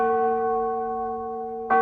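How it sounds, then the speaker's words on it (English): A single church bell rings from a steeple, its long sustained tone holding and slowly fading before a fresh strike near the end. "ringing the bells till they rocked the steeple"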